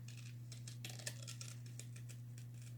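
Scissors cut through ribbon for a fall decoration, making a run of quick, soft snips close by over a low steady hum.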